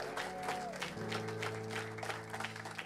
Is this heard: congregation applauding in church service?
yes